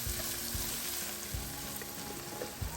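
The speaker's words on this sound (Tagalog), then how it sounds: "So now you have to add spaghetti sauce." Spaghetti sauce meets a hot pan holding chicken and luncheon meat, producing a continuous dense sizzle with a few low thumps of stirring, fairly quiet and steady, with no speech.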